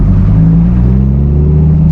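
A car pulls away at low revs on a cold engine, a steady loud droning hum with a sustained low pitch and no talking over it.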